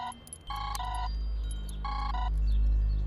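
A telephone rings in a film scene with two bursts of a bright, electronic trilling ring separated by a pause, heard over a low droning background.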